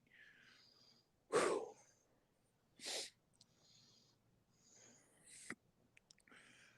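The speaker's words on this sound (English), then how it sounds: "my breathing's abnormal now" Abnormal wheezing breath heard close and faint in a quiet space, with two sharp loud wheezy bursts followed by softer rasping breaths and a brief snort.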